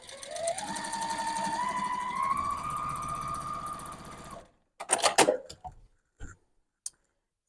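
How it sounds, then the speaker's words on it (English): Sewing machine stitching a quilt seam for half square triangles, a fast even whirring run with rising motor pitch for about four seconds, then stopping, followed by a few sharp clicks and handling noises. "I am sewing with my needle directly on top of one of those lines."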